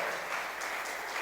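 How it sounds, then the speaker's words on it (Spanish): A church congregation applauds loudly, a dense wash of clapping that is brief, close and unbroken, with no speech over it. "Dele un aplauso fuerte, hermano, por favor."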